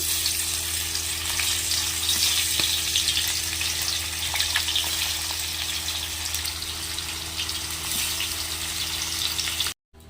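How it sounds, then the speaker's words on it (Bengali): Steady, loud sizzling of pangas fish frying in hot mustard oil, a continuous crackling hiss with no talking, cutting off abruptly at the end. "এবার আমি এই মাছগুলো ভেজে নেব।"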